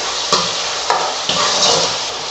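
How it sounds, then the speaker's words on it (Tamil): Chicken pieces frying in hot oil in a pan, a loud, steady sizzle close up, broken by a few sharp clicks of stirring. "சிக்கனை சேர்த்துட்டு கொஞ்சம் நேரம் எண்ணெயிலே நல்லா ஃப்ரை பண்ணணும்."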